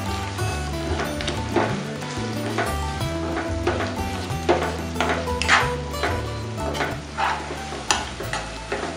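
Onion frying and being stirred in hot oil in a home kitchen, a steady close sizzle broken by repeated scraping stirs and light clinks of a spoon against the pan.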